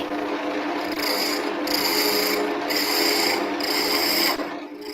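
A roughing gouge cuts a spinning wood blank on a lathe while Christmas decorations are turned, a close, rasping scrape in repeated strokes of about a second each with brief lifts between, no talk.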